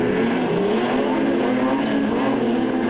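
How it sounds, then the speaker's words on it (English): Speedway modified production race car engine on a night oval at Lismore, the driver feathering the throttle, giving a steady loud droning engine note that holds throughout with slight pitch wavers. "you can hear him feather the throttle"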